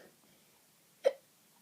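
A single short hiccup, abrupt and close, after a moment of near silence.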